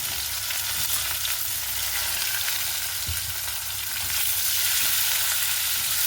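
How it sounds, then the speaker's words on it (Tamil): Chopped onions added to a pan with fenugreek sizzle and fry steadily, a close, continuous crackling hiss with occasional stirring, no voices. "இப்போ நாங்கள் வெட்டி எடுத்து வச்சுக்கிற வெங்காயத்தை சேர்த்துக்கொள்கிறோம்."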